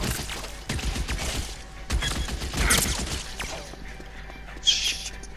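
Gunfire in the video game L.A. Noire comes as sharp bursts and thuds among muffled game noise, with someone talking over parts of it.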